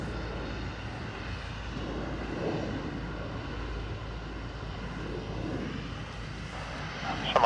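Airliner engines roaring in reverse thrust after landing at Dublin Airport, a steady, loud broadband rumble that holds throughout and swells slightly at the very end.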